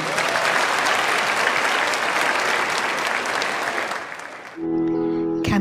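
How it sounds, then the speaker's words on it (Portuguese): A church congregation claps loudly and densely during a sermon, a sustained burst lasting over four seconds that cuts off abruptly into music. "Agora você pode aplaudir bem forte"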